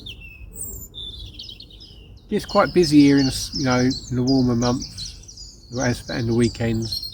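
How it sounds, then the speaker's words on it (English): Birds sing in the morning at a carp fishery, with bird chirps and tweets sounding faint and scattered in the background before and under someone speaking nearby. "You can hear the birds singing, can't you?"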